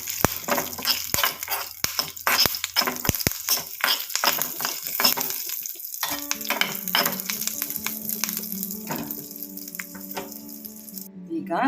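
Tempering of spices with a pinch of asafoetida frying in oil for a groundnut chutney, a busy crackling sizzle with sharp pops and clatter early on, then a steadier fry with a low hum, close and moderately loud.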